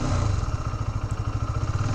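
A beginner's motorcycle engine held at revs with the clutch at the biting point, a steady close mid-pitched throb that pulses rhythmically for the full two seconds, with no voices.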